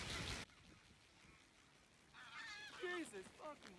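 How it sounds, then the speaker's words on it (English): A flock of geese honks repeatedly while flying overhead outdoors, a series of nasal calls rising after a brief burst of noise and a quiet pause. "We just had a flock of geese fly over us"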